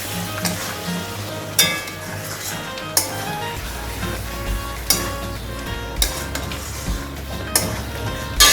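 Spice paste sizzles and fries in a pan with fish, a constant crackling hiss broken by periodic sharp clinks of a spatula or spoon scraping and stirring against the metal.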